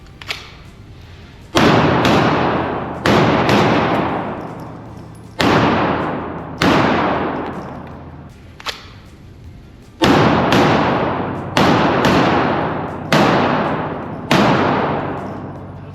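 Pistol shots ring out during a target shooting drill on two targets, nine sharp reports in small spaced groups with echoing decays and no talking.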